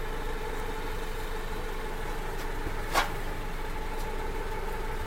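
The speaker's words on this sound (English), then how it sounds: "diesel generator." Diesel generator with a loosened exhaust idling steadily at close range, a constant mid-pitched engine hum with faint vibration throughout and one brief sharp transient near the middle.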